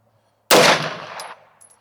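A single loud Walther PDP Pro pistol shot fired over a chronograph, firing X-Treme bullets near 1300 fps, with a sharp close report and a short ringing decay.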